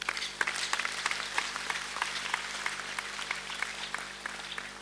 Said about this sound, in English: It's a good place to clap.